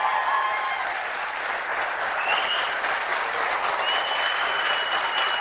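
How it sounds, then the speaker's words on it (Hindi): Steady applause from a large audience filling a seminar hall, dense and continuous clapping at an even level from start to finish with no talk over it. "जरा ताली तुली बजा के बता दो तो ऊपर बैठे हैं लोग यार"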